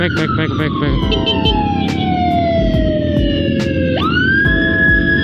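A police siren wails loudly and close, its pitch sweeping down and then jumping back up, over the steady rumble of passing motorbikes on a road near Lembang. A voice briefly talks underneath.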